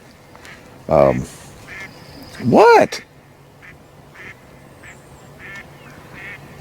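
Ducks quack at a construction site where a T wall is being built from stacked ICF blocks: two loud, close, nasal calls about a second and a half apart, with faint background noise and a brief spoken word.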